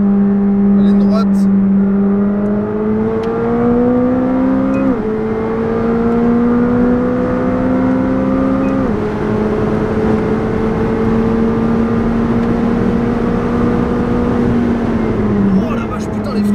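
A McLaren 765LT accelerates hard down a track straight, its loud engine note climbing steadily through the gears with three distinct upshifts, heard up close from inside the car.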